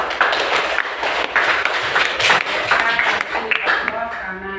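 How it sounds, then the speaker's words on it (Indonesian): Students in a classroom clap together in a brisk burst of hand claps, close and fairly loud, with voices mixed in before the clapping fades near the end. "Tepuk tangan."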